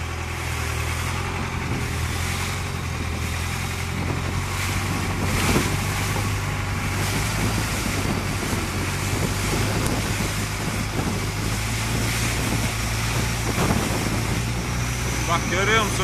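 A long-tail boat motor drones steadily on a river in Bangkok, with wind buffeting the microphone and water rushing alongside throughout.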